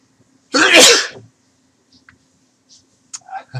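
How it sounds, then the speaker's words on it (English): One loud, close sneeze bursts out near the start. Faint clicks and small handling noises follow, with a soft bit of movement at the end, in an otherwise quiet room. "First couple sneezes ever on camera there, I believe"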